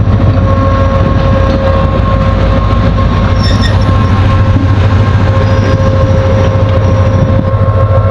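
A Pakistan Railways diesel locomotive passes close and loud, its steady heavy engine roar and rumbling wheels holding with little change, a faint high squeal briefly rising over it.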